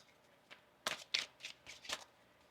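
Tarot cards being shuffled close up: a handful of crisp riffling bursts in quick, uneven succession, with no talking.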